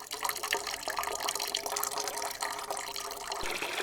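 Water splashing and pouring into containers as it is fetched amid depleted, contaminated supplies, a steady, close, continuous run of liquid with small bumps and clinks throughout.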